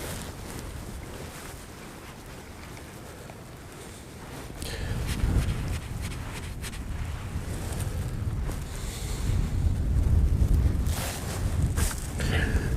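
Wind gusts buffet a small fishing boat on open water. The microphone roars as the wind builds and surges in waves, with water sloshing underneath.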